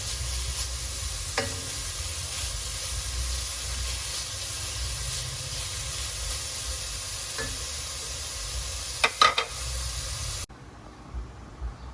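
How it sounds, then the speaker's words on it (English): Pork searing in a pan over high heat, a steady close hiss and sizzle running throughout, with a couple of faint stirring clatters near the end before it cuts quieter. "Turn my heat up real high just to sear that pork real quick."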